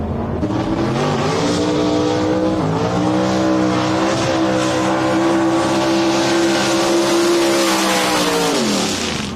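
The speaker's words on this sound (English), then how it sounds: "This engine is a replica of an original Ford 460 motor." A race car's big Ford 460 replica V8 with an aluminum block, bored and stroked to 638 cubic inches, revs loudly and steadily up and down, rising and falling in pitch over several seconds, heard up close.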